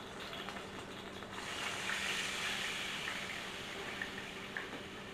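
Water poured into a cooking pan, a continuous rushing splash with a steady, fairly close wash of sound that swells slightly midway and carries on without pause.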